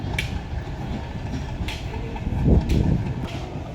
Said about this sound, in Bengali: দেখুন ট্রেনটা রওনা দেওয়া শুরু করে দিছে